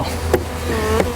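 Honeybees from a package being installed into a hive buzz continuously and close up in a short, dense droning hum with a couple of faint taps.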